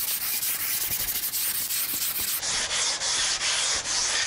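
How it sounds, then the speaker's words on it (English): Steady, brisk strokes of an auto body and fender sanding block with 150 grit sandpaper rubbing across planed pallet wood, a continuous gritty hiss close up with quick repeated passes. "150 grit sandpaper on this auto body and fender sanding block works great to remove any imperfections"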